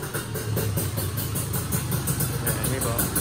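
Steady idle of a tuned 2011 Kawasaki Ninja 150RR SE two-stroke sitting on a dyno, with a constant close-up engine rumble and a faint voice in the background.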